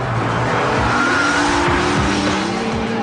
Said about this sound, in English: That's just the understeer, killing the fun, killing the power, killing everything.